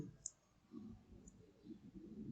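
A single sharp mouse click on a computer, brief and close, with quiet room noise around it.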